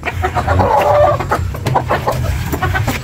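Backyard chickens and roosters cluck and murmur close by at feeding time, a busy overlapping run of short clucks and squawks that carries loud throughout.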